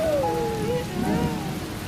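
Steady rain falls throughout a short household scene in a detergent commercial, a broad hiss of drops on surfaces beneath a faint tonal whine, with no talking.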